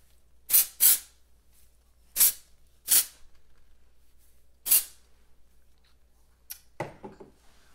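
Short hissing bursts from an aerosol can of texture spray sprayed into hair ends, close up, come in quick pairs and single puffs with quiet pauses between them.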